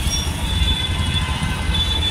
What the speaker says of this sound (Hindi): ये मेट्रो आ गई